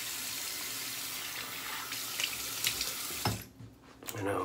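Water runs steadily from a tap as shaving soap is rinsed away, a close, continuous hiss that breaks off near the end into a few splashes and drips.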